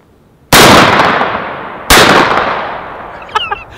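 A Beretta A400 Xtreme shotgun fires two close, loud blasts, first a 3-inch Remington Hypersonic shell and then a 2 3/4-inch shell, each with a long decaying echo, followed by a few faint clicks.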